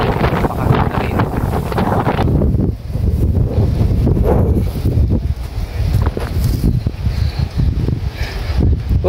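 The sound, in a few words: wind blowing on microphone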